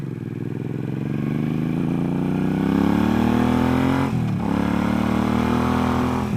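A Yamaha FJR motorcycle's engine hums and rises steadily as it is ridden, a close, continuous drone with a brief dip around a gear change before climbing again.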